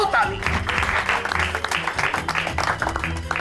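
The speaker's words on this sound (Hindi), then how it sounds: "बजाओ ताली।" A burst of applause from a group rises quickly, steady clapping mixed with background music and voices.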